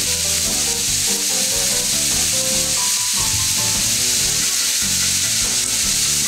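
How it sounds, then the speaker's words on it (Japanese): Shimeji mushrooms stir-fry in a pan over medium-high heat, making a loud, steady sizzle broken by the scrape and clatter of stirring. "しめじもね、少しこう、しなっとなるまでね、炒めていきますよ"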